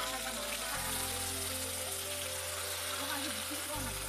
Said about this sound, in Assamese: ইয়াতে মাছ ভাজি আছে